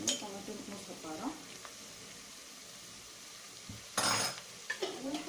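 Tomato paste is stirred into hot oil with vegetables in a pan, a quiet sizzle under scraping spoon strokes and a few sharp clinks of utensil on cookware.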